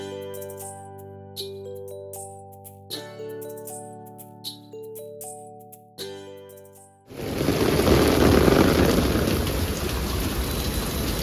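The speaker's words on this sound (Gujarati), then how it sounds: "લિટરલી બહુ જ વરસાદ આવી રહ્યો છે અહીંયા" Heavy monsoon rain pours down on an Ahmedabad shopping street, a dense, loud, steady roar that bursts in abruptly after several seconds of tonal music and holds to the end.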